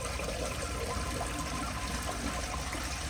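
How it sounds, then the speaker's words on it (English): A yellow 1975 Kilgore Apex toilet flushing with only half a tank of water, giving a close, steady rush and gurgle of water that carries throughout without any voices. "So let me try doing a flush with half a tank and see what that does."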